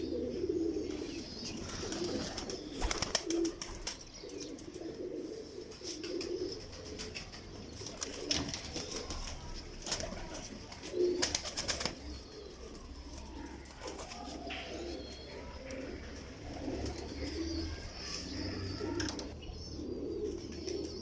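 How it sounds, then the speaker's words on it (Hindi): Pigeons kept by a fancier coo in soft, low repeated bursts, nearby and fairly quiet, over faint background noise and occasional wing or handling sounds. "ये दोस्तों उस्ताद जी के दिल के करीब कबूतर हैं, बहुत अच्छे और शानदार माशाल्लाह।"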